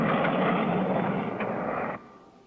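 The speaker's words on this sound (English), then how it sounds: "There goes the black jet again!" A black jet plane roaring past in a cartoon sound effect, a loud broadband engine whoosh that fades and cuts off near the end.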